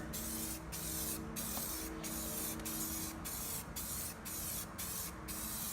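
A spray gun hisses in a steady rhythm of short bursts, about nine of them, as paint goes onto the underside of wooden shutter louvers, over a constant low background hum.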